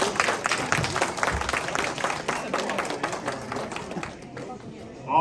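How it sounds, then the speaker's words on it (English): Audience clapping and cheering at a live stage show where a machine has just been built, busy applause with crowd murmur that thins out and stops near the end. "Let's give a round of applause."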